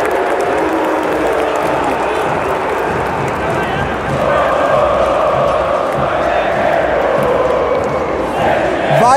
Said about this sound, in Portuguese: Vaias e aplausos no final do primeiro tempo.